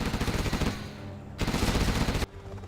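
Laser cannon weapons firing in the Command & Conquer Zero Hour strategy game, two loud sustained bursts of crackling, buzzing fire separated by brief pauses, with a quieter tail at the end.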